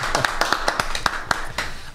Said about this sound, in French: on applaudit les fans